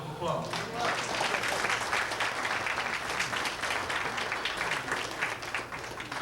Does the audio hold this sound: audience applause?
yes